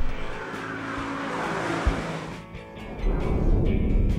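A 416-horsepower Lexus sports car runs hard around the VIR race track, its engine roaring loud and close with a steady drone that surges again near the end, tires briefly squealing.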